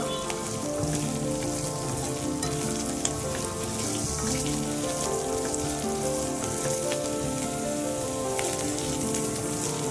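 Onion and capsicum frying in a pan, a dense continuous sizzle, loud and steady throughout with no talk.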